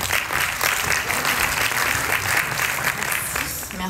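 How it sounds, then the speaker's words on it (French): An audience at a startup pitch final applauds as the last presenter is welcomed, a full, steady round of clapping with a faint voice briefly underneath. "Merci d'applaudir."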